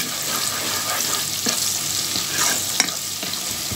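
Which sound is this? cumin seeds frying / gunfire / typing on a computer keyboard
cumin seeds frying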